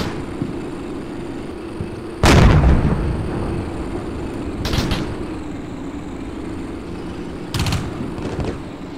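Simulated 155mm howitzer rounds land in the Combat Mission Shock Force video game, three sharp blasts spaced a few seconds apart over a steady low rumble of battlefield ambience, the first loudest.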